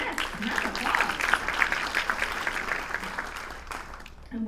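Applause from a university audience, a dense clapping texture that swells and fades over a few seconds, with a voice faintly heard underneath toward the end.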